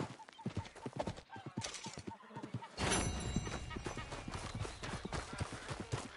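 Steady clip-clop of a horse's hooves in the game Red Dead Redemption 2, a rhythmic trot that shifts into a busier, rougher gait halfway through, with a voice talking over parts of it.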